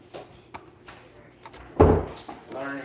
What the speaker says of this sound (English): The door does shut.